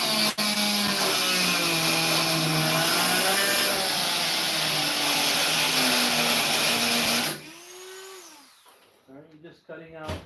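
A power tool trims sheet metal on a tailgate with a loud, steady, high whine for about seven seconds, then cuts off abruptly. Brief clatter and a voice follow.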